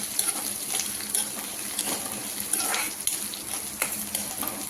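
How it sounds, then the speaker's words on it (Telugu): Curry leaves and garlic frying in a pan, with a steady moderate sizzle and crackle, light stirring clinks and scrapes scattered throughout, close by, with no voices. "కరివేపాకు, ఇప్పుడు ఫ్రై చేసుకోవాలి."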